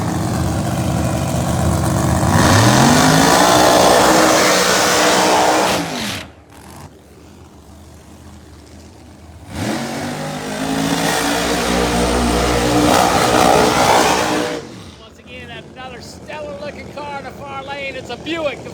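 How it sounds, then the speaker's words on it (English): A 1957 Buick drag race car at a Thursday morning test session: the engine roars loudly at full throttle, falls quiet, then accelerates hard again with sweeping pitch, wind buffeting the microphone, and a voice talks near the end. "It's a Buick, a 57 Buick, owned by the Jenkins family"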